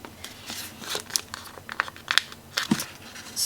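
Transparent planner stickers handled close up, giving irregular crinkly rustles and small crackling pops scattered across a few seconds, fairly quiet, with no talking.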